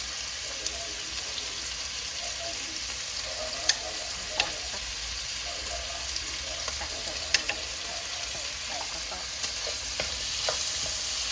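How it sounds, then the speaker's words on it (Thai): Thai pork neck and sweet bamboo shoot curry being stirred in a pot, a soft steady bubbling sizzle with faint scraping and clinks of the spoon against the pot, quiet and close with no talking. "คนนะคะคนให้เข้ากัน"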